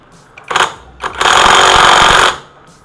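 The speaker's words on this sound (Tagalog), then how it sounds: "Gamitan natin ng impact wrench." Impact wrench working on the nuts of a Honda Click version 1 scooter, a loud, close pneumatic rattle that comes in two short bursts and then one sustained run lasting over a second before stopping.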